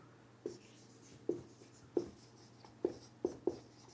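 Chalk taps and scrapes as a teacher writes chemistry notes, six short distinct strokes in an irregular rhythm, close and clear over a quiet low hum.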